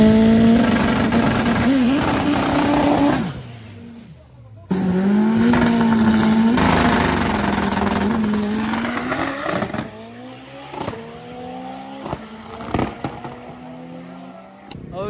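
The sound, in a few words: 4x4 rally car engine revving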